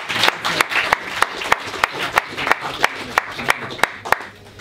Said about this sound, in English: please a big applause for Lo